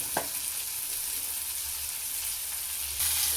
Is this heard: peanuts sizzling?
yes